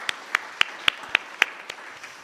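Sparse, faint clapping from a church service audience, about eight evenly spaced claps that taper off, with no talking.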